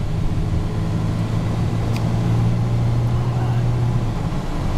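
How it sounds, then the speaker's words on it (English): A car's 351 5.8-litre V8 holds a steady medium-throttle drone, a low, even engine hum with no sharp rises throughout. "So just giving it medium throttle."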